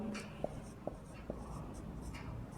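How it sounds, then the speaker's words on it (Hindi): Chalk or marker scratching on a classroom board during a Rajasthan geography lesson, a few short strokes with three sharp taps, close and fairly loud over a steady low hum, no talking. "तो ट्रिक लिखते हैं हम"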